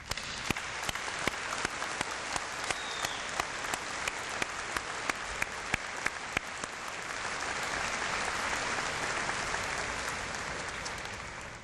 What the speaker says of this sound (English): the newest graduates of the University of Waterloo deserve a round of applause